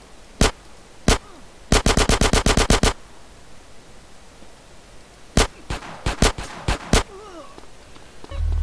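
Gunshots in the game GTA San Andreas: several single sharp cracks, then a fast burst of about eight shots, a pause, and another irregular cluster of loud, close shots over quiet ambient noise.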